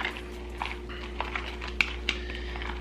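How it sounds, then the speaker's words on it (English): A fork mixing overnight oats with protein powder in a bowl, giving faint, scattered clinks and soft wet stirring sounds at an irregular rhythm, quiet and close. "I would usually just get a fork, just mix it up just like this"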